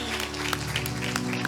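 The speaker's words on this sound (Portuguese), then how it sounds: "Pode aplaudir nós aqui também." Scattered clapping rises from a church congregation during a Sunday service, sitting over a sustained organ or keyboard drone, with a few sharper individual claps standing out.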